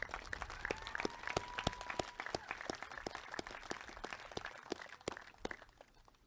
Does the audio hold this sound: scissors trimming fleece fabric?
no